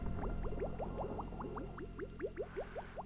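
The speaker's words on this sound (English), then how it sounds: "That'll get some of that water out of that line." Water drains from a pipe in the video game Oxygen Not Included as a rapid, regular run of bubbly gurgling blips over a steady low hum.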